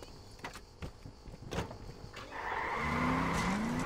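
A car in Just Cause 2 drives off, its engine and tires swelling into a sustained skid-like squeal in the last second and a half, following quieter mechanical clicks and thumps.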